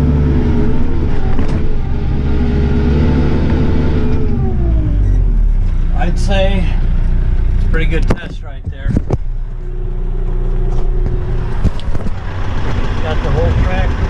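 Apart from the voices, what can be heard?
Kioti RX7320 tractor engine straining under load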